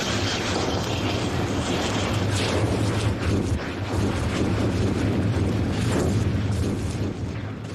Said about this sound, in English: Trapped gases explode to freedom.